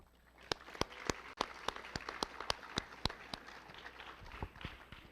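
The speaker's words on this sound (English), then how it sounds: "just a round of applause for all of our student athletes that are here tonight" A small audience claps for student athletes at a school board meeting honoring a wrestling season, the sharp claps sparse and uneven, a few loud ones close by, the applause thinning out toward the end.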